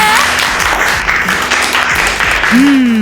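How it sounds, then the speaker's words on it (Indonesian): People applaud Nastya in a children's video. The clapping is loud and continuous, with bright musical tones and a voice rising over it near the end. "tepuk tangan semuanya, tepuk tangan buat Nastya"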